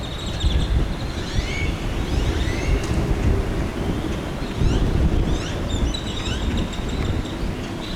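Strong wind gusts buffet the microphone along the Colorado River, a loud, low, uneven roar that swells and dips, with faint bird chirps breaking through in the background.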